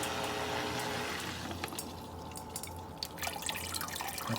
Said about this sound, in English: you gotta fill this up with water up to here, and it starts pouring up